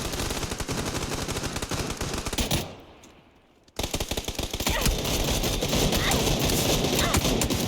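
Rapid, dense bursts of gunfire in the video game PUBG ring out continuously, cutting off briefly for a quiet second before the heavy shooting resumes.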